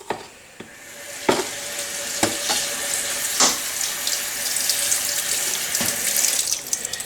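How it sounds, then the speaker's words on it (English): Nettles being washed under a running tap, a steady close rush of water splashing into a sink with a few sharp knocks and clatters, continuous and fairly loud, with no talking. "the next trick really is to give the nettles a wash"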